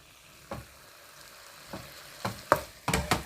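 Bite-size beef slices fry in a pan for a homemade beef tortilla, under a quiet, steady sizzle. Several sharp scraping knocks from stirring the meat come at irregular intervals and grow more frequent toward the end.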